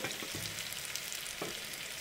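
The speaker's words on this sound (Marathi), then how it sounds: "हे छान असं तडतडतंय आपली फोडणी" Garlic and green chillies tempering in hot oil, sizzling with a continuous crackle and small scattered pops from a nearby pan, fairly quiet and with no talk.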